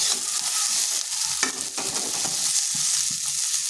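Kundru (ivy gourd) fries with a steady sizzle in a covered pan and is stirred now and then, with a few scraping knocks of the spatula standing out against the constant frying hiss.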